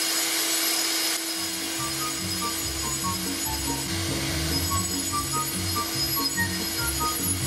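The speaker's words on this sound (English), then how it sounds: "Here I'm using the Shidaya tool diamond cup wheel to smooth the concrete." Diamond cup wheel on an angle grinder smoothing concrete, a steady close whirring grind with a faint scraping texture and small clinks, running continuously without speech.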